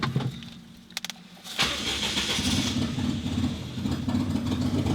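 A Daihatsu Mira's engine starts after a brief jingle and, with no exhaust fitted, settles into a loud, rough, unmuffled idle that rumbles steadily to the end.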